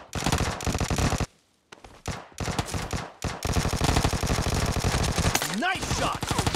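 Rapid automatic gunfire in the mobile battle royale game PUBG Mobile, loud dense bursts broken by short pauses, with a quick rising whoosh near the end.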